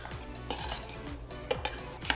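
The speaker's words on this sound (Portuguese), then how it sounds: "Vamos saltear ela aqui ligeiramente aqui." Lamb sautéed in butter in a pan, with a utensil scraping and clinking against the pan in several knocks and a faint sizzle underneath, close and alone.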